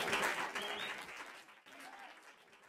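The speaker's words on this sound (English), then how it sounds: "Once again, please give a round of applause for Grubbing Grubby Bubby" A burst of clapping and cheering for a performer named Grubbing Grubby Bubby, strongest at the start and fading over a couple of seconds before a sudden sharp sound at the end.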